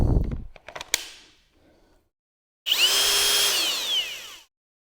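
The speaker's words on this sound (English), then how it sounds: "My drill broke? Look at this." A cordless drill in a woodworking shop spins up in one loud, steady burst of about two seconds, whining as it revs and then winding down. Earlier, a few short clicks and rattles are heard with no voices.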